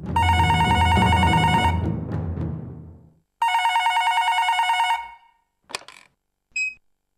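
A home telephone bell rings in two long, loud bursts separated by a short pause, followed by a couple of brief clicks as the handset is picked up.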